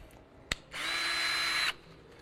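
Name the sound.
power drill mixing two-part resin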